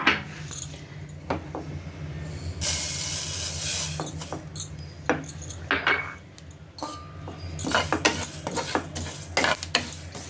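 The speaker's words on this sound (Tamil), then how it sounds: "எள்ளு நல்லா பொரியிற சத்தம் கேட்குதா?" Sesame seeds roasting in a pan, crackling and popping under a spatula that stirs and scrapes with repeated clinks; a steady sizzle runs underneath, and no one speaks.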